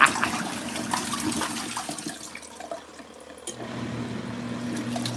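LG ThinQ washing machine draining water through its drain hose, a steady rushing gurgle of flowing water that eases off, then settles into a lower continuous flow.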